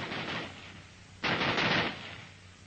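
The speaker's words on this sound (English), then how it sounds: "the rifle will continue to fire as long as the trigger is held back" A Browning B.A.R. automatic rifle fires sustained bursts while the trigger is held, with a sharper, louder burst in the middle of a steady, rattling string of shots.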